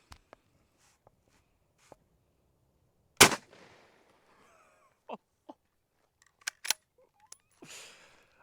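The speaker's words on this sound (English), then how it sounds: "firing." A single sharp, loud report from a 6.5 rifle fired into a block of meat, standing alone amid quiet clicks and handling noises, with a few smaller snaps and a brief rustle afterward.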